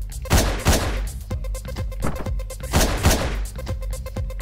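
Rapid bursts of loud gunfire in Hotline Miami crack repeatedly in quick succession, several heavy shots with sharp echoes and no talking.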